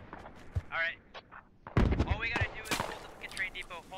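Gunfire in the video game Squad Ops, sharp shots including a loud close burst near the middle, mixed with voices talking over the firefight.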